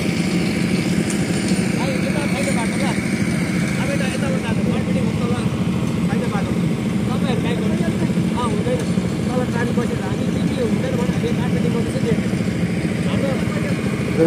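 Motorcycle engine running with a modified exhaust, a loud, steady droning rumble close by for the whole stretch, with people talking over it.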